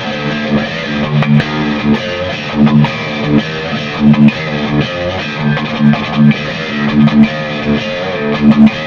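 Nash electric guitar played through a tube amplifier on the clean channel, chords and single notes ringing with a slightly gritty edge, continuous and fairly loud, no voices.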